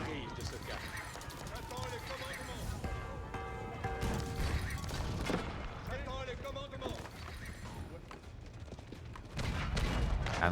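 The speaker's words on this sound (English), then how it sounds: "Cannon spam coming in." Cannons fire repeatedly in a real-time strategy game battle, a dense barrage of booms and crashes layered with clattering mechanical effects, while a commentator talks throughout.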